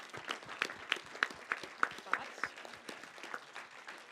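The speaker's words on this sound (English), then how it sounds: "let's give ourselves also an applause to finish this off" Light applause from a conference audience at a wrap-up session, a fairly sparse, faint patter of individual claps spread across the room that tapers off toward the end.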